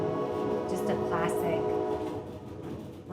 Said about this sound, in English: the rocking along with the train horn gives that feeling